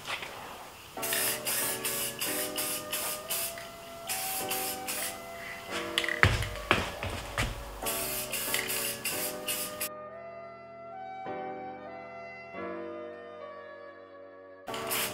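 Spray paint mists onto a wheel in repeated short on-and-off bursts of hiss, close to the can, with music playing throughout and the spraying dropping away near the end.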